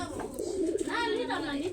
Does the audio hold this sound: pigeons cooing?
yes